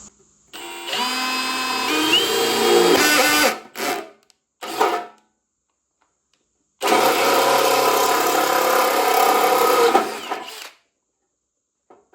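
A power drill bores a hole through a propane ammo box, whining steadily in one loud near burst, then after short pauses and a brief blip running again in a second sustained stretch.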